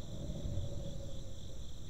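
Ghost crickets in The Darkside Detective chirp in a steady, continuous high trill, loud and close, with no voices over them.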